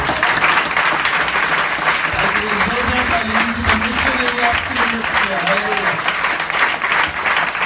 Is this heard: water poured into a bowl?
no